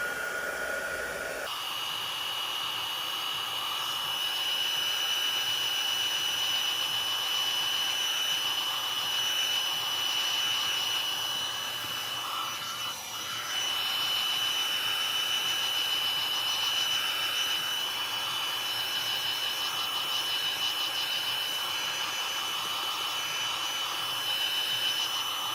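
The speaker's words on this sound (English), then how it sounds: "So let's dry it, because it'll get a bit lighter as I dry it." A heat tool blows steadily to dry ink on a stamped card, a loud, even whooshing drone that starts abruptly and runs unbroken, close up and alone with no talking.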